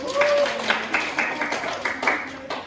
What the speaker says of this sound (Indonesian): terima kasih kita tepuk tangan